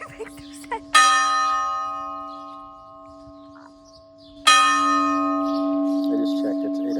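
Two loud, resonant church bell strikes ring out at 8 p.m. a few seconds apart, each sustaining a long humming decay near an outdoor bench, with faint people and ambient sounds in the background.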